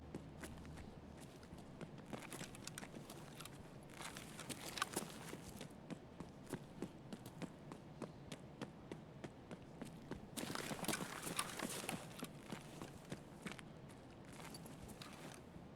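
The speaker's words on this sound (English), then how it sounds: "until finally I heard footsteps nearby" Footsteps move nearby in the video game Escape from Tarkov, with quiet, irregular rapid steps tapping across the whole stretch and a denser burst partway through, set against a low background hush.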